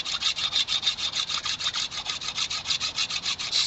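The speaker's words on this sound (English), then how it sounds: "By scraping it, if you're careful, it'll make it a little easier" Chaff is scraped off dogbane fibers in quick, even back-and-forth strokes, a close, dry rasping rhythm of about seven strokes per second that continues steadily with no talking.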